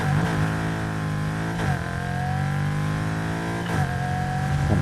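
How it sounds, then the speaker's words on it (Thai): An American car engine in the Need for Speed Heat racing game holds a loud, steady, buzzing rev, broken by three brief dips and surges, with no one talking over it. "ชอบเครื่องยนต์ อเมริกันมากเลย เสียงมันดู เท่ดี"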